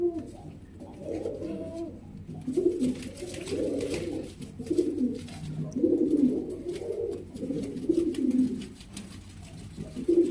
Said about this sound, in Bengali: এক পেয়ার লক্ষা কবুতর রয়েছে আমাদের মাঝে দেখানোর চেষ্টা করছি ভিডিওর মাধ্যমে